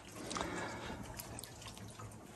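Tap water runs steadily into a sink for washing dishes, fed by a Joolca portable water heater at a trailer setup, a continuous splashing stream with small drips, fairly close and moderately loud.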